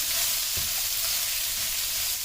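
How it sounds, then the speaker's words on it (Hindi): Julienned carrots and cabbage sizzle in a hot pan, with a steady frying hiss and a soft scrape or two as they are stirred. "इनको आपने अच्छे तरीके से मिक्स करना है।"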